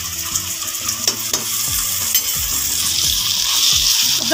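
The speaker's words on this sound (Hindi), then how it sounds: "20 सेकंड तक हम अदरक और लहसुन के पेस्ट को भून लेंगे" Ginger and garlic paste fried with onions in a pan for a chicken milk karahi, a steady close sizzle with scraping stir strokes throughout, no voices.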